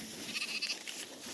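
Sheep bleat softly in a pasture, a few short nasal calls close by with a quiet outdoor background and no talk.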